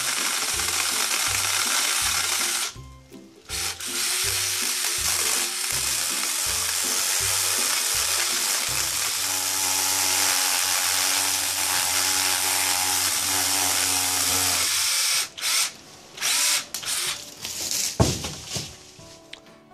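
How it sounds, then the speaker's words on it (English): A Black & Decker 20V cordless pole saw runs, first in short on-off bursts, then a steady high whining buzz while it cuts a branch, ending in a few brief stops and restarts. "here I'm going to go ahead and try pruning a long branch"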